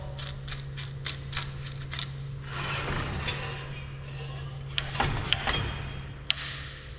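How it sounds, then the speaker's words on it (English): Metal bolt with a 1/2-inch flat washer being threaded into a threaded hole on a 2x72 belt grinder kit: a quick run of light ratcheting clicks, then scraping and a few sharp metallic ticks, close up over a steady low hum. "So we're going to thread that in until it's parallel."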